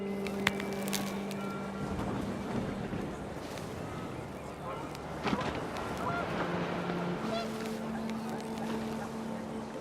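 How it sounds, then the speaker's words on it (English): Panicked geese honk in What Remains of Edith Finch over gusting outdoor wind, with several drawn-out honks and calls scattered across a steady windy background. "The wind picked up and panicked geese appeared and quickly went."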